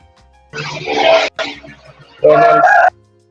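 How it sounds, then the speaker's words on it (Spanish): A rooster crows loudly nearby, two drawn-out calls separated by a short pause, with no talking. "el gallo está haciendo mucho ruido"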